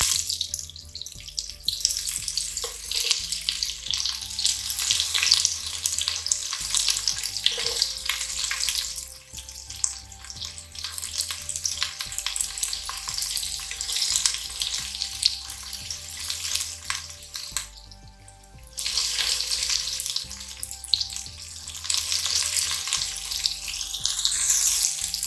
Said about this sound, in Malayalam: ചൂടാകുമ്പോൾ നമുക്ക് സവോള ഇടാം